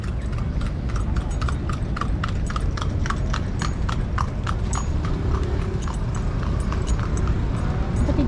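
Steady, rapid clip-clop of a horse-drawn carriage's hooves on pavement at Rizal Park carries on throughout over a dense rumble of traffic and street noise, with no talking.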